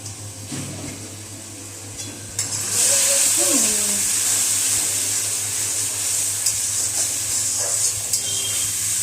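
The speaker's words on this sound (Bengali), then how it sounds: "মশলাটা ভালো করে" Chili and cumin powder fry in oil for khichuri, starting quietly with a faint tone and scraping, then jumping into a loud, steady sizzle that carries on under light pan stirring.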